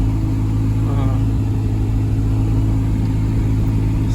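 A big truck's engine idles steadily with a low, continuous rumble close by, a faint voice briefly heard over it.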